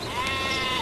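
A sheep bleats once in a sustained, wavering cry lasting under a second, fairly close and clear with no talk over it.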